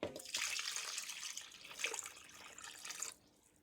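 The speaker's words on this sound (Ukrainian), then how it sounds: "Тепер заливаємо водою по плечики та ставимо на вогонь стерилізувати" Water runs into a pot of glass jars set up for sterilizing, a continuous splashing pour with a brief surge midway that stops abruptly near the end.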